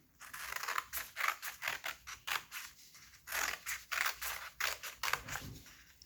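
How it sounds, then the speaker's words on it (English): Scissors snip through paper along drawn lines for a lantern, a quick run of short, crisp cuts in an even rhythm, close and fairly quiet. "I'm just going to cut on those lines I made as close as I can get to"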